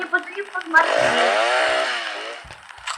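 A chainsaw in the Roblox video game revs up into a loud, sustained buzzing whine for about a second and a half and then winds down, with people talking over and around it.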